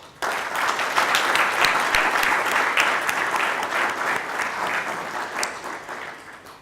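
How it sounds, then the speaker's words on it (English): Audience applause at a motivational talk, sustained dense clapping from a large crowd, loud and even throughout before tapering slightly at the end. "So can we have an applause for each one of you?"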